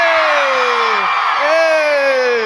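A Comic-Con convention crowd screams, whoops and cheers loudly in two big swells, a dense roar of many voices filling the hall up close.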